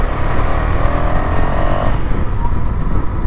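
A KTM Duke 250 fitted with an X3 exhaust kit ridden fast, a loud close engine drone with a rising rev that settles into a steady rumble.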